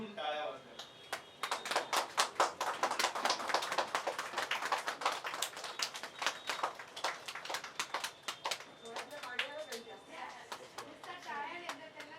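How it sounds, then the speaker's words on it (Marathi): An audience at a World Book Day event in April 2026 gives a long round of dense, rapid clapping, loud at first and then thinning out, with voices mixed in. "या माणसासाठी उठून टाळ्या वाजल्या."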